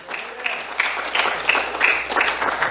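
A church congregation claps as an offering of applause to the Lord. Bursts of clapping build in a loose, uneven rhythm over a few seconds, moderately loud, with no voices.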